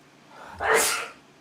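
A single sharp human sneeze, close and loud, lasting under a second with a brief intake before the burst.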